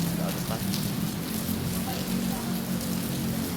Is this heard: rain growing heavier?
yes